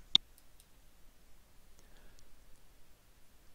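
A single sharp computer mouse right-click, close and crisp, followed by faint scattered ticks over a quiet background.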